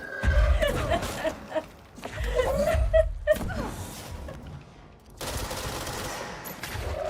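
Gunfire in the game Control rattles in bursts under people talking and laughing, the shots mixed with chatter and game effects at moderate loudness.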